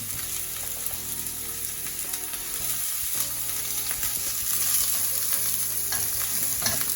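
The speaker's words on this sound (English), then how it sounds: "garlic and chilies here, so I'm just going to fry them off in a bit of olive oil" Garlic and chilies fry in olive oil for a vegan kebab, giving a steady, close crackling sizzle with occasional stirring that grows slightly louder toward the end, with faint tonal background music underneath.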